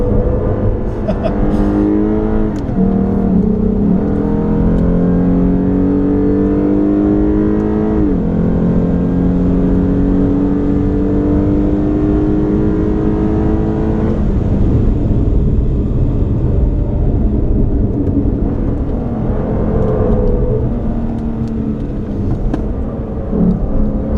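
Lexus RC 350 F Sport driven hard on a track, its engine droning loudly and continuously, rising in pitch through repeated upshifts with brief drops between gears, heard from inside the car.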